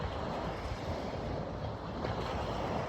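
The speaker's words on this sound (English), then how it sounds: "You can hear the sound of the waves." Ocean waves wash onto a beach at sunrise in a steady, unbroken roar of surf. The sound is close and fairly loud, with some wind in the background.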